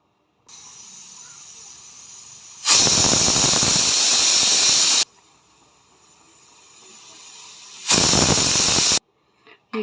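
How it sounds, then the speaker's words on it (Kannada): Pressure cooker whistle blowing off steam while mutton biryani cooks: two loud, sustained shrill hissing whistles a few seconds apart, with a quieter steady hiss of escaping steam in between. "whistle cap hockey 2 whistle ಕೂಗಿಸ್ಕೊಳ್ಳೋಣ"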